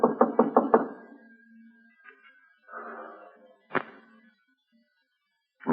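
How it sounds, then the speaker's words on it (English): Loud knuckle knocks on a door: a quick run of five sharp raps, then quiet, some muffled movement, and a single hard thump, with another knock starting at the very end. "Give him a knock."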